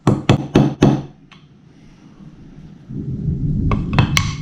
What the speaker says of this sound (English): You want to put it in there slightly and just hammer it in until the back is flush.